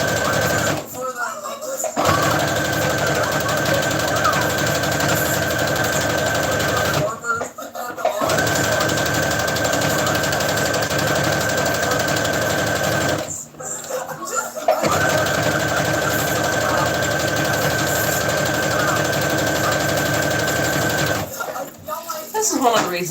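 A sewing machine stitches a giant squid, running in long loud stretches of rapid buzzing mechanical motion, broken by three brief pauses.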